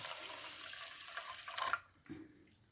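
Water poured into a pan of sugar to make jalebi syrup: a steady splashing pour for about a second and a half, then it stops, leaving a faint knock and near quiet.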